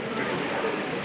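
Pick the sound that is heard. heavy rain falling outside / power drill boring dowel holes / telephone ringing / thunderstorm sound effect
heavy rain falling outside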